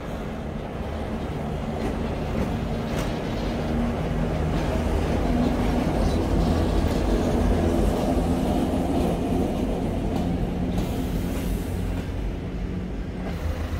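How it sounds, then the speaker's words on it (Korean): A local train rolls steadily past at Vladivostok station, the terminus of the Trans-Siberian line, as a continuous rumbling, clattering drone of wheels and cars that stays loud and even throughout. "이 기차는 로컬 기차 같습니다."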